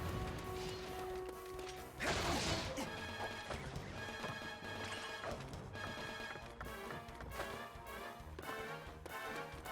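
Pots are smashed in the video game Dragon Quest Heroes: The World Tree's Woe and the Blight Below, with a loud crash near two seconds over busy game music and repeated hits throughout.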